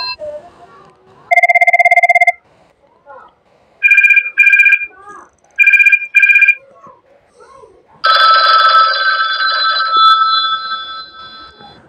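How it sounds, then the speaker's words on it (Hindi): A phone ringtone plays loudly and alone: a tonal burst, then repeated short double chirps, then a longer sustained electronic melody near the end. "काफ़ी ज़्यादा आपको रिंगटोन्स देखने को मिल जाएंगे"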